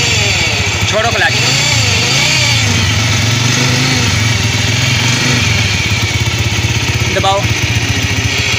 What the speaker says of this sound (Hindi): मोटर बाइक स्टार्ट हो गई है, हमारा लोडर रश का स्टार्ट हो चुका है। आपको इसकी आवाज़ सुनाते हैं।